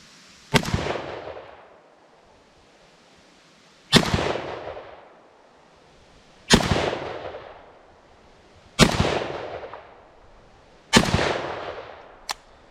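Five sharp rifle shots from a gun fitted with a Feyachi V30 red dot sight crack outdoors, spaced two to three seconds apart. Each loud, close report trails off in a long echoing decay, with no talking between them.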